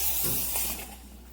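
The steam wand of a MiiCoffee Apex V2 espresso machine in brushed stainless steel hisses and sputters, spitting water instead of giving continuous steam: a brief, close burst of noisy hiss that fades out within about a second.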